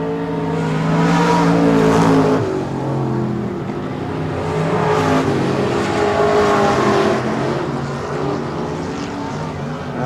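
Race cars on the dirt track at Texana Raceway Park during the 2017 Summer Showdown, engines droning and revving loudly in overlapping passes that swell and fade as they circle.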